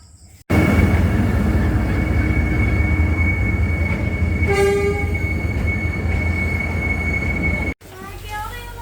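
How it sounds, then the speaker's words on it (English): A cargo train in Vietnam rumbles steadily close by with a sustained high squeal of wheels and a brief horn-like tone partway through, the noise cutting off sharply near the end. "That's a cargo train over there"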